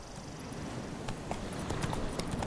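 Horse hooves clip-clop at a steady walking rhythm in The Witcher 3: Wild Hunt, fairly soft and close against a low ambient background.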